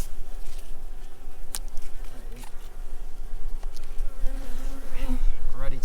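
Honeybees buzz steadily around an open hive of a strong colony during a honey harvest, a dense continuous drone close by with individual bees flitting past, no talking.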